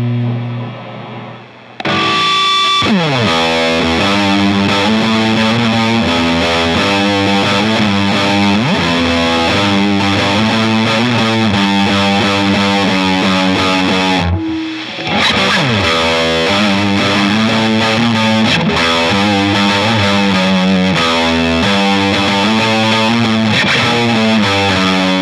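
Electric guitar through a Big Muff Wicker fuzz pedal plays a loud, saturated, sustained fuzz riff with chords and bends, stops briefly partway, then carries on with dense distorted strumming.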